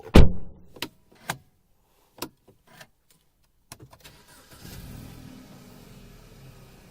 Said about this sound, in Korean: 자, 이어서 시동을 걸고